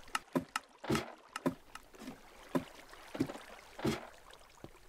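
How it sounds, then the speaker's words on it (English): A machine at a fried chicken factory ejects ice into a stream, producing irregular splashing and sloshing bursts heard at a moderate distance over quiet background. "You could hear that thing ejecting all that ice into the stream here."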